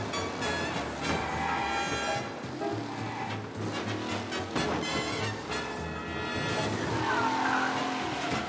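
Tires squeal and skid as a car slides through a curve in Mafia: Definitive Edition, a loud, sustained screech over steady engine roar with music-like tonal layers, no talking.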